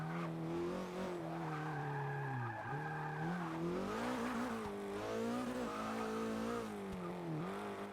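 Porsche 944 Turbo sliding sideways in the racing game Forza Motorsport 6, a steady engine drone with wavering, sweeping tire squeal layered on top, continuous and fairly loud throughout.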